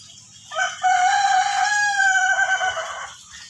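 A single green junglefowl crows loudly and close, a rising harsh call that holds and then trails off, with quiet rhythmic background noise beneath.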